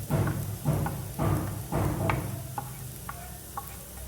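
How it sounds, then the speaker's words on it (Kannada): Onions cooked in oil with turmeric, cumin and coriander powder are stirred in a clam sukka, giving a series of close, rhythmic scraping strokes over a soft sizzle. "ಅರಿಶಿನ ಪುಡಿ, ಕೊತ್ತಂಬರಿ ಕಾಳಿನ ಪುಡಿ ಹಾಕಿ ಸ್ವಲ್ಪ ಮಿಕ್ಸ್ ಮಾಡ್ಕೊಳ್ತಾ ಇದ್ದೀನಿ"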